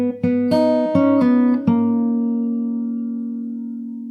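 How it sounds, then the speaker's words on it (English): A fingerstyle guitar plays a brief fill from a song, a quick run of several plucked open-string notes followed by a long ringing note that slowly decays, alone and close. "you have this little fill that connects this part to the verse,"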